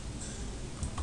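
Typing on a computer keyboard at a desk, soft scattered key presses with a couple of clearer taps near the end, close and quiet.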